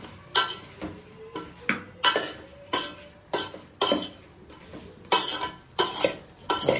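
Sambar spice mixture of chilli powder and vegetables being stirred in a pot, with a steady run of about a dozen scraping, clinking spoon strokes, close and fairly loud, without talk.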